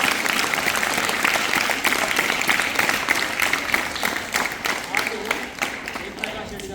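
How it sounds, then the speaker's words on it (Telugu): An audience at a doctors' event applauds, a dense wash of clapping from a crowd that holds steady for several seconds before thinning slightly, with a voice speaking over it. "ఒకసారి గట్టిగా చప్పట్లు కొట్టారు"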